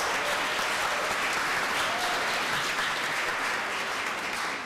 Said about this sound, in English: You should clap for them too, because they're all amazing.